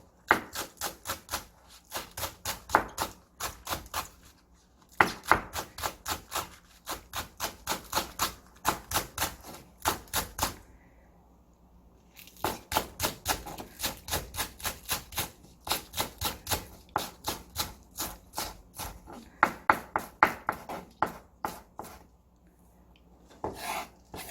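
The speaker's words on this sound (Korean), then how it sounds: "실파를 아주 쫑쫑쫑 썰어주세요." A knife finely chops scallions on a wooden board in rapid, even bursts of crisp taps, several long runs separated by short pauses, close up with no talking.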